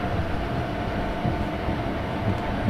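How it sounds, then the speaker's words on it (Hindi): A WAG 7 locomotive hauls an ICF passenger train along a main line in an Indian train simulator game, giving a continuous low rumble of rolling wheels and engine drone with no speech. "हालांकि हमारी ट्रेन मेन लाइन पे आ चुकी है, स्टिल लिमिट इज़ 20"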